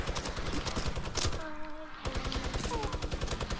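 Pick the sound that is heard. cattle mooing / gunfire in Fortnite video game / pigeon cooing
gunfire in Fortnite video game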